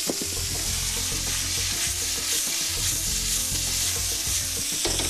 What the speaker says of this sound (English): as the garlic is browning very quickly, I'm going to put this beef in to stop the garlic browning